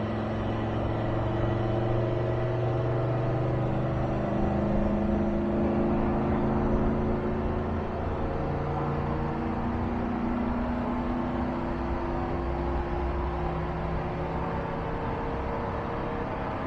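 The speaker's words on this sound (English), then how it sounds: "this is a 4th gear pull, no downshift, going from 57 miles an hour" A car making a fourth-gear pull from 57 mph without a downshift, its engine droning steadily and smoothly throughout, a continuous low rumble and whir with no voices.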